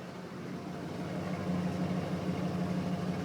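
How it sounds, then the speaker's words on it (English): A 1992 Ford F150 pickup engine with stock exhaust idles steadily and close by, a constant low rumble holding an even pitch throughout with no speech over it. "Idles right down to where it's supposed to be now."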